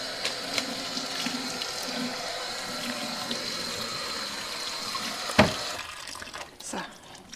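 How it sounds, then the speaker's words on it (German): Cold tap water runs steadily over freshly steamed vegetables from a Varoma steamer basket in a kitchen sink, a continuous hiss and splash that stops abruptly near the end. "So, einmal kaltes Wasser drüber, hast du gesagt?"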